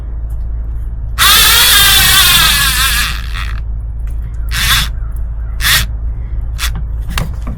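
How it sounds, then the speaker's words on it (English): A cordless drill with weak batteries whirs steadily for about two seconds up close while tightening an RV black tank hose, then gives a few short bursts over a low background hum. "I think the batteries of that drill need to be changed"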